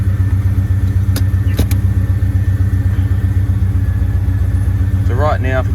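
Nissan Patrol GU with an LS1 V8 swap idles steadily up close, a deep, even rhythmic thrum running throughout, with a couple of brief clicks and a short voice near the end.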